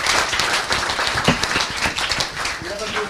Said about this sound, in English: Another applause for Uli.